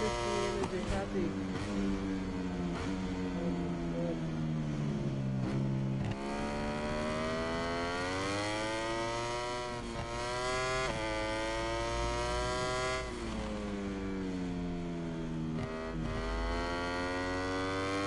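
In MotoGP 22, a Ducati motorcycle engine whines continuously, pitching up and down with repeated rises and sudden drops as gears change, loud and sustained throughout.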